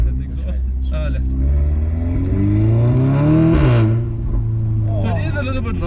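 Audi S3 with a non-resonated Milltek exhaust revs up to a raspy, rising peak and then drops back, loud and close, with speech briefly heard before and after the rev.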